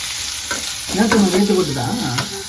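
Burmese egg bejo frying in hot oil until golden and crispy: a constant bright sizzle, with close stirring and scraping sounds breaking in over it.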